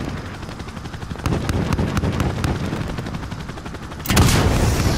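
Video game gunfire in Call of Duty Modern Warfare: loud rapid bursts of automatic weapon fire crackle against a rumbling battle background, ending with a heavier blast near the end.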